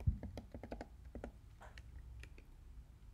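Fingers type a search query on a computer keyboard, a quick burst of soft clicking keystrokes followed by a few sparser taps, quiet and close.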